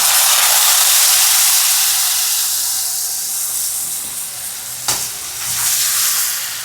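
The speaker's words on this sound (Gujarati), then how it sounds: "હવે સીધું જ આપણે ગોળ નાખી દઈશું જે તૈયાર કર્યો છે એ" Jaggery goes into a pan of raw watermelon sabzi, setting off a loud, steady sizzle and hiss of frying that fades slightly, with a brief clatter near the five-second mark and the sizzle swelling again afterwards.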